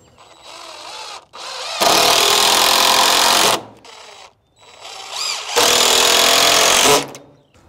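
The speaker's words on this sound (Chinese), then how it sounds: "上面还要用几颗钉子给它加固一下" Power drill driving fasteners to reinforce a wooden chicken coop frame, two long, loud whirring bursts up close, separated by quieter handling noise.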